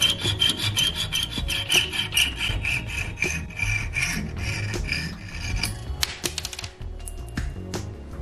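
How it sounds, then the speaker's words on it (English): A hacksaw trims a metal bolt clamped in a vise. It makes steady back-and-forth rasping strokes, close and fairly quiet, that turn choppier and more uneven toward the end. "Then use your hacksaw to trim"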